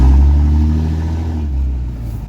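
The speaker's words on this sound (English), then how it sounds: "I miss my diesel truck." A heavy diesel truck engine rumbles loud and close, a deep throaty rev that slowly settles back toward idle.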